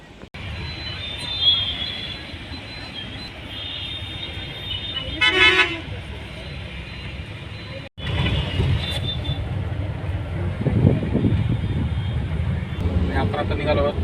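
A sleeper coach bus on a night trip from Nanded to Karad pulls away, a short horn toot sounding over a steady engine rumble, with low road and cabin noise continuing as people talk.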